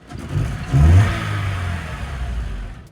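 A faulty engine in a Honda CR-V swapped with a 6-speed AWD TSX drivetrain revs up sharply, then holds a steady, loud rumble with a low droning tone throughout.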